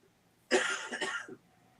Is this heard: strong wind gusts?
no